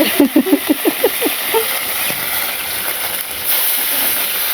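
Hot oil sizzles in a wok in a village kitchen, opening with a quick run of rhythmic, sputtering bursts that settle into a loud, steady hiss close by.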